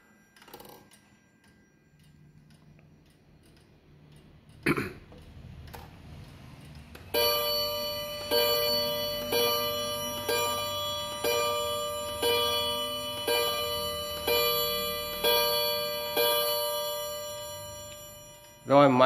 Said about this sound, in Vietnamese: Và bây giờ mình test tiếng chuông này.